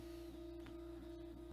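A 3D printer runs through calibration, giving a faint, steady motor whine and hum with a couple of brief shifts in tone, no voices.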